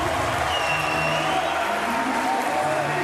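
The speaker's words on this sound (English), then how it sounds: "Roars of the crowd in the Porte de la Chapelle Arena in Paris." A large arena crowd at the Porte de la Chapelle Arena in Paris roars and applauds steadily after a world-record para powerlifting lift, a dense, continuous wash of cheering and clapping.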